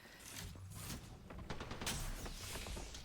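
Gunfire from a sniper in an online battle-royale shooter, a dense mid-volume spread of shots and impacts with sharp cracks and booms layered over a constant game backdrop.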